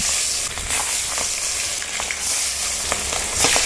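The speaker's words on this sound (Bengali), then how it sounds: "এই দেখছো তো আওয়াজ শুনে পটপট করে ফুটছে, চোখে মুখে তেল ছিটাবে।" Fish pieces rubbed with salt and turmeric frying in hot mustard oil, a close, continuous sizzle dotted with sharp crackling pops and spatters, no talking.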